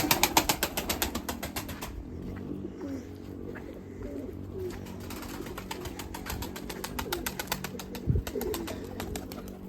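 Breeding pigeons being let outdoors, with soft cooing and wing flutters over a rhythmic mechanical ratcheting at the start and end, plus a sharp knock near the end.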